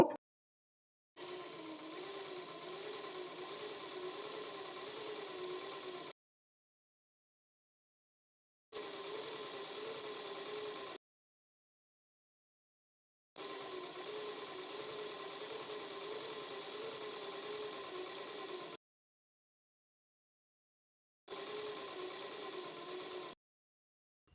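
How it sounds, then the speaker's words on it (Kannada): Sewing machine stitching piping onto a blouse, running in four steady bursts of whirring motor and needle clatter separated by short silences, fairly close and alone. "ಬಟ್ಟೆನ ನಿಧಾನಕ್ಕೆ ಫೋಲ್ಡ್ ಮಾಡಿ ನೀಟಾಗಿ ಸ್ಟಿಚ್ ಮಾಡಿ ತೋರಿಸ್ತಾ ಇದ್ದೇನೆ"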